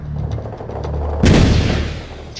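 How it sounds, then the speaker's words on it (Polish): A single sniper rifle shot rings out in the Medal of Honor Warfighter campaign, one sharp loud crack with a booming tail that decays over about a second, following a low steady game background. "Dobra, jeden strzał."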